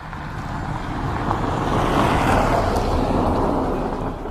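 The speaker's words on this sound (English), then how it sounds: "There's a car coming by" A passing car makes a broad, steady road rush that swells toward the middle and eases off, heard alone with no talk.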